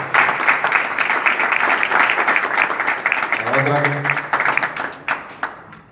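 Warm, sustained applause fills a hall at an international bolero festival, with a voice briefly audible partway through before the clapping tapers off at the close.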